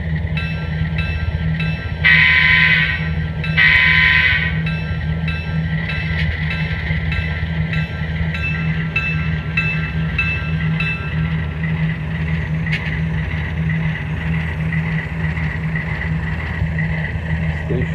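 A model train rolls along with a steady mechanical hum and rattle, sounding two short horn blasts early on before running on evenly.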